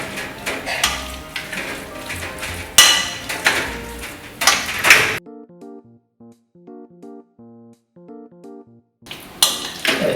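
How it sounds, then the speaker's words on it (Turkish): Spoon clinking and scraping in a pot as yogurt is stirred into Turkish borani, loud clattering bursts that drop away into a quiet tonal passage before the clatter resumes near the end. "ve son olarak da yoğurdumuzu ekleyip karıştırıyoruz"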